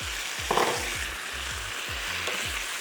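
Beef kway teow noodles stir-fried and tossed in a hot pan, a steady sizzle broken by repeated scraping and mixing strokes, close and fairly loud, with no voices.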